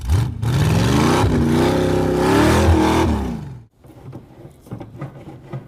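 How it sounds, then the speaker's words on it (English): A Corvette engine revs hard and loud for about three and a half seconds as the car climbs a rocky hill. Its pitch rises and falls, then cuts off into softer clattering and scraping from the rough ground. "This is the first time a Corvette's ever climbed a mountain."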